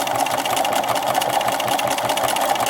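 Sewing machine stitching at a steady fast rhythm, a close, continuous rapid mechanical chatter of needle and feed.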